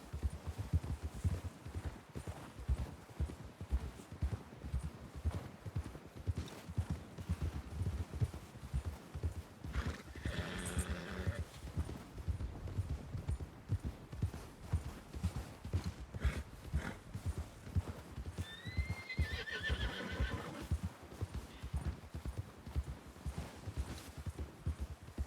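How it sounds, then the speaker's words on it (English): In the Red Dead Redemption game, via RedM, a horse canters with rapid, rhythmic three-beat hoofbeats that hold a steady pace throughout, with a couple of whinnies partway through. "Pick it up to a canter."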